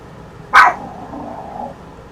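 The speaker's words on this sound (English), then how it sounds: "Do you have to bark every time I'm talking?" A single sharp dog bark rings out close by near the start, trailing into a softer whine or growl that fades over the next second.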